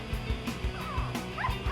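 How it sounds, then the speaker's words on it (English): Two-week-old West Highland White Terrier puppies in a bin whimper and yip close up, a rapid string of short squeaky cries and high whines overlapping one another. "Bessie had a litter of puppies on 9/5, September 5th"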